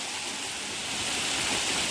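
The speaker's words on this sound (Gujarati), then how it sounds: "વરસાદ બહુ પડે છે ભાઈઓ" Heavy rain pours down outdoors, a dense, continuous wash of broadband hiss that stays loud and unbroken throughout with no voices.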